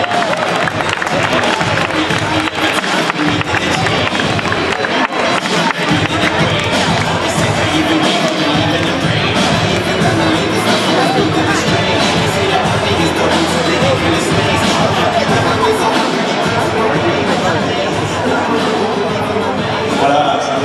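A crowd at a martial arts night opening ceremony in Aulnay-sous-Bois claps and cheers continuously, dense and loud, with a voice over a loudspeaker speaking French above the applause.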